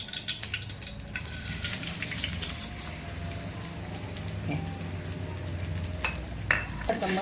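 Edible gum (dink) roasting in ghee in a pan, a quiet steady sizzle and crackle with light scraping of a spoon, close and continuous, a little louder near the end, no speech.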